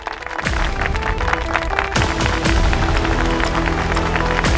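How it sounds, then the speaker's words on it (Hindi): Loud, sustained applause from an audience for a financial adviser of a company called to the stage, with dense clapping from start to finish, a low rumble underneath and no one speaking. "वरदान इंडस्ट्रीज के फाइनेंशियल एडवाइजर के लिए जोरदार तालियां"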